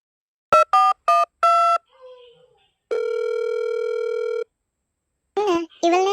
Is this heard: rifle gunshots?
no